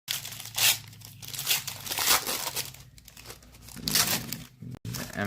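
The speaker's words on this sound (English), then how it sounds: "the sound for opening up paper packs" Paper booster packs of Hobbit trading cards being torn open, with repeated crinkling and ripping bursts close up, some faint speech in the background.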